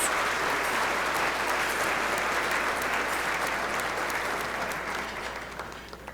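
A large audience at a chamber of commerce State of the Town event applauds volunteers with a dense, sustained roar of clapping that fades slightly toward the end, no voices over it.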